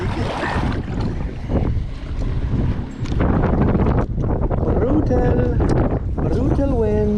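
Strong gusts buffet the microphone with a loud, continuous roar while someone fishes from a kayak on open water, broken by brief whistling tones.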